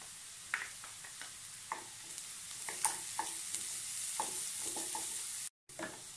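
Crushed ginger and garlic fry and get stirred in a pan of browning onions for pepper chicken, a steady close sizzle broken by scraping spoon strokes, with no talking.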